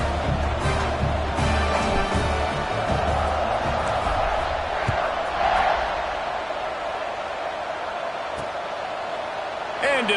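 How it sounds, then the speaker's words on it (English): A stadium crowd in the College Football 25 video game buzzes steadily after a Cincinnati score as a kickoff approaches, a broad sustained roar with an announcer's commentary over it. "this crowd is buzzing after that last score"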